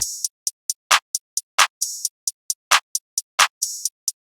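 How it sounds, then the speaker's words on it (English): Open hi-hat sample called open hat Jeff in a beat: a steady run of crisp, hissy hat hits, some longer and ringing, interleaved with fuller percussive hits, fairly loud and alone. "Then we have the open hat, which is the open hat Jeff,"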